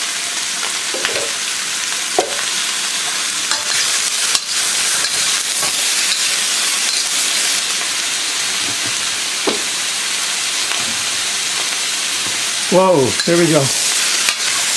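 Beef searing in sesame oil in a pan over high heat, a loud, steady, close hiss and sizzle that goes on throughout, with an occasional scrape and a brief spoken exclamation near the end.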